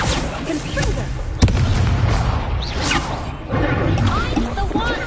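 Confringo blasting spell explosions in Hogwarts Legacy, loud booming impacts and crashes in quick succession amid dense battle noise, with a sharp hit standing out midway and a voice shouting over the action.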